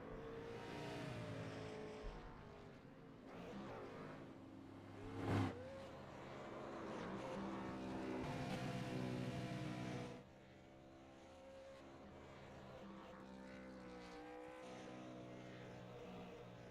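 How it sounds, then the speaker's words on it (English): A race car in iRacing at Kern Raceway does a burnout, its engine revving hard with a rising and falling roar and a sharp spike midway, before the sound drops off to a quieter idle. "That's a burnout and a half"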